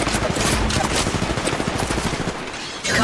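Dense, continuous automatic gunfire in the mobile shooter Apex Legends Mobile, with energy-weapon fire sounding as rapid overlapping shots that stay loud and steady for about three seconds, alone without talk.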